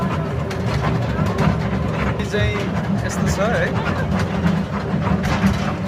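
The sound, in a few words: train running, Lumbini to Delhi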